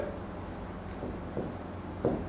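A sentence being written on a classroom board, soft scratchy strokes of chalk or marker in short bursts against a steady room hum, with a sharper tap near the end.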